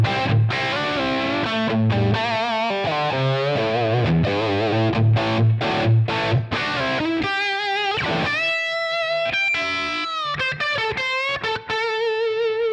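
Electric guitar played with heavy overdrive through a Line 6 Helix amp model rings out in sustained distorted chords and then choppier melodic bursts, loud and up front with no talking.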